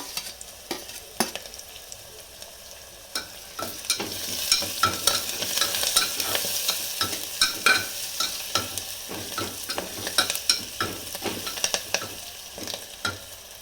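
Onion, garlic, curry leaves and chilli frying in a pan make a continuous close sizzle. Many crisp crackles and spatters swell in the middle and then ease off, with no talking.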